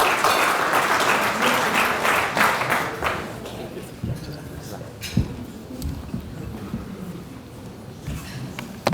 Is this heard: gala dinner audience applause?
yes